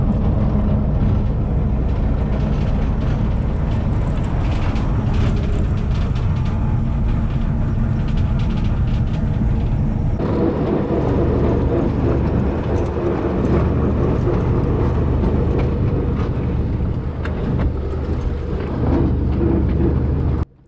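Steady low rumble and clatter of a small 750 mm narrow-gauge train on the Apsheronsk railway in the Caucasus, continuous and fairly loud throughout, with a shift in tone midway.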